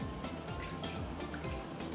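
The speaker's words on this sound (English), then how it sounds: "you can add a few drops of the blue food color to make the water look like the ocean" Drops of blue food coloring falling into a container of water, giving soft, irregular dripping and liquid sounds over a steady background, close and fairly quiet.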